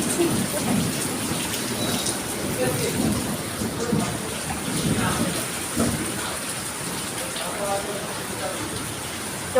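Heavy rain pours steadily over a flooded neighbourhood in Ram Thakur Colony, Jadavpur, Kolkata, a dense, continuous patter and wash of water with faint voices now and then beneath it.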